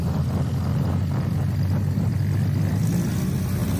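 A STOL airplane taxis past at a competition, its engine and propeller giving a steady low rumble at moderate distance, with no talk.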